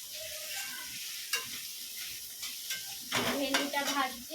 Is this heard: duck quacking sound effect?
no